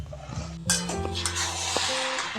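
Dal is stirred in a pan with onions, a spoon scraping and clinking against the metal in a few close, distinct strokes over a low background hum.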